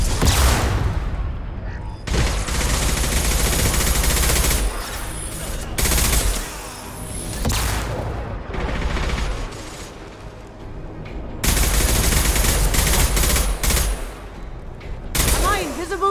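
Heavy weapon fire in Mass Effect 2, with loud sustained bursts of gunfire and booming shots that rise and fall across the whole stretch, mixed with game voices shouting in combat.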